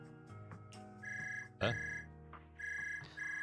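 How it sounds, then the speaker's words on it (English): A phone rings in the Zenless Zone Zero game, repeated electronic trilling bursts with a sharp chime in the middle, clear and close with no talk. "Phone rings."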